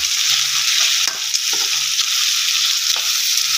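Shrimp paste (alamang) hits a hot frying pan for Bicol Express, giving a steady loud sizzle with a few brief stirring scrapes and clanks throughout, no voices.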